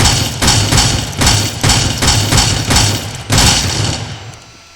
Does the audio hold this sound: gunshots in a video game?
yes